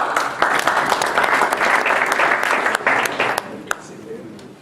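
An audience applauds for a delegation at an Israel Bonds event, dense clapping that holds steady and then thins into a few scattered claps as it dies away.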